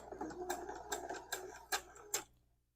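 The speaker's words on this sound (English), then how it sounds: "I'm going to stitch this down" Sewing machine stitching pieced quilt blocks for a diagonal nine patch, heard as a run of quick mechanical clicks and bursts that ends in quiet.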